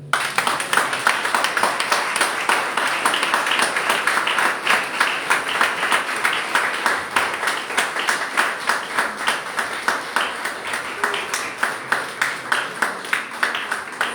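Church congregation clapping together in a steady, rhythmic beat, a dense crowd of hands keeping time throughout, loud and continuous with no talking over it.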